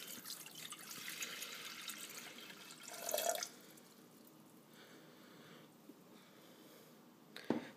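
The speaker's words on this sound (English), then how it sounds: "So I'll go ahead and pour that in." Water poured into a Breville One-Touch Tea Maker, a steady splashing trickle filling the jug for several seconds, close and moderately loud, with a brief louder gush midway and a small clunk at the end.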